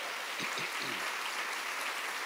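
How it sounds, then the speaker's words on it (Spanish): A church congregation applauds during a sermon, a dense, continuous wash of many hands clapping together, somewhat faint and distant, with no voices over it. "Dale un aplauso al Rey bendito."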